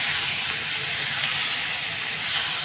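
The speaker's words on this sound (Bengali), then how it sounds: "একটু জিরের গুঁড়োও দিয়ে দিলাম তাই এখন আমি কিছুক্ষণ একটু ভেজে নেব" Vegetables frying in a pan with ground cumin give off a steady, close hissing sizzle that holds evenly throughout.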